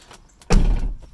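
A car door gives a solid, heavy thunk as it shuts after a window rattle fix, one close, loud impact after faint handling sounds, with a short decaying rumble.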